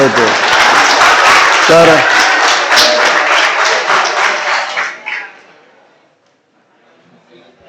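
Students clap together in a classroom. It is a loud, dense burst of applause lasting several seconds that fades out, then leaves near silence and a brief spoken word.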